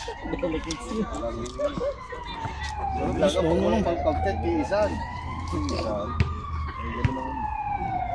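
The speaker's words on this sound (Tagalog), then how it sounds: "Ito na naman yung ambulansya." An ambulance siren wails in a rising and falling cycle, passing close by outdoors at a basketball game in Hungary, with people talking over it.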